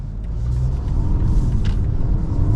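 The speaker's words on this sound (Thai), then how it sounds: "เสียงดีเซลเห็นปะแล้วรอบมันจะค้างรอ" A BMW 520d M Sport (LCI) with a 190-horsepower diesel engine makes a steady low rumble while being driven, heard from inside the cabin with no talking.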